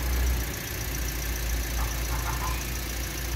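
A car engine idles steadily after being started, a constant low rumble with a faint mechanical whine, heard close and alone with no talking.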